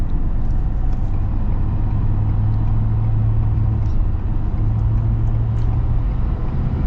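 Cabin sound of a 2024 Ford F-350 XL with the Off-Road Package and Power Stroke diesel, driving: a steady low engine and road rumble, fairly loud and continuous, with a faint tonal hum rising and falling.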